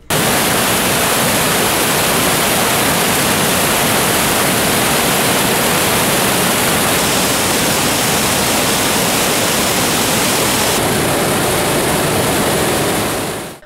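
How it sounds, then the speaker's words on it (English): Ssezibwa Falls in Uganda, with water crashing over rocks and splashing onto the ground below, makes a loud, steady broadband roar that runs unbroken throughout. "Water pushes through the rocks and flows down the bottom. As it touches the ground, it uses excessive force as it is seen splashing."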